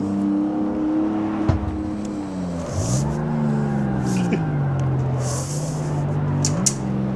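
A car engine in the racing game CarX Street drones and bogs down, its tone sagging to a low, labouring hum after a brief rise, loud and steady for several seconds with faint clicks on top.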